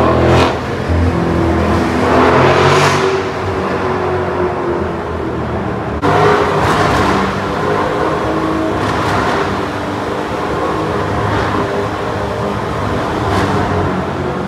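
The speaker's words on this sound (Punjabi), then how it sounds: "ਆਵਾਜ਼ ਚੈੱਕ ਕਰੀਏ, ਕਰੀਏ ਗੱਡੀ ਚੈੱਕ" A car engine revs, heard as a steady, close drone with a couple of rising swells in pitch and power.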